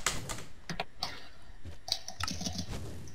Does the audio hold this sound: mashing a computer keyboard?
yes